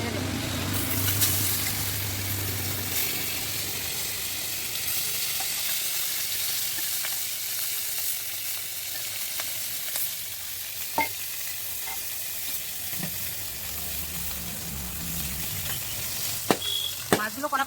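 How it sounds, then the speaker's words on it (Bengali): Fish seasoned with salt and turmeric frying in hot oil in a karai, a steady broadband sizzle running throughout with a few sharper crackles and pops near the end. "এখন মাছটা তেলের উপরে ছেড়ে দেবো।"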